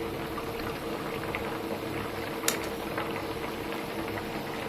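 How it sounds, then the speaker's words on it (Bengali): Rice boiling in a pot, a steady bubbling, churning hiss that stays even throughout, with one brief sharp click near the middle. "ভাত ফুটে এসছে, একটু শক্ত শক্ত দেখেই নামিয়ে দেবো।"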